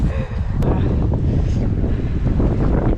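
Strong wind buffeting the microphone on a snowy, thawing lakeshore at Alisenjärvi in Finland, a loud continuous rumbling roar with faint lapping water behind it.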